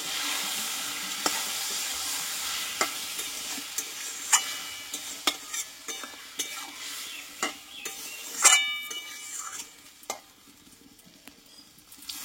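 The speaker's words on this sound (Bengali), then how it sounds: "এবার এখানে অল্প করে আমি জল দিয়ে দেবো, যেহেতু ডালটা একটু সেদ্ধ হবে।" Pumpkin and chana dal sizzle steadily in a pan with a little water added, while a spatula stirs and scrapes in repeated knocks against the metal, close and fairly loud.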